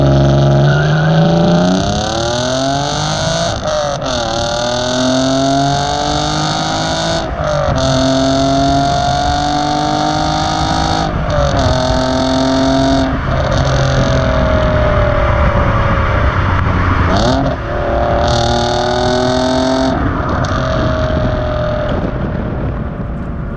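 A Ford Mondeo ST220 engine revs up through the gears, pitch climbing repeatedly with brief dips at each shift, loud and close with no talking.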